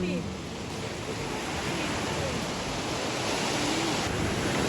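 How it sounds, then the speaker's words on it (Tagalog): Steady broadband rush of large waves at sea, continuous and fairly loud throughout, like waves breaking close by with wind noise over the microphone. "malalaki ang alon"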